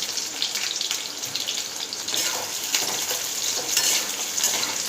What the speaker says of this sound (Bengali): পেঁয়াজগুলো এবার দিয়ে দিলাম কড়াতে। তেলটা গরম হয়ে গেছে,